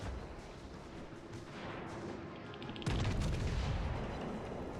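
A battleship's broadside in World of Warships Legends fired at close range: loud booming gunfire that suddenly surges about three seconds in over an already dense, rumbling battle soundscape.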